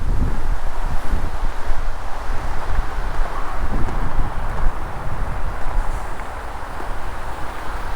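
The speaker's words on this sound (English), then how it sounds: "Wind feels good, man." Wind gusts outdoors at a nature center, a steady broad rushing buffet against the microphone with rustling leaves underneath, fairly loud and continuous, with no one speaking.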